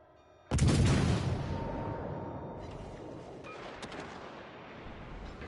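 Warship gunfire in World of Warships Legends: a sudden heavy boom that rolls and decays slowly, followed by fainter distant shots and rumble.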